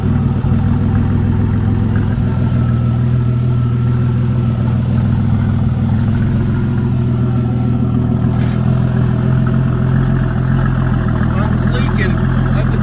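A twin-turbo Camaro engine warming up at a steady idle, a loud continuous drone with turbo whine, held at a constant level throughout.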